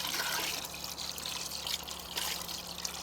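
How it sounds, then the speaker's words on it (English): Diatomaceous earth slurry pours into a pool skimmer as a steady close watery trickle and splash, continuous and moderately loud, with no voices. "you slowly pour it into the skimmer"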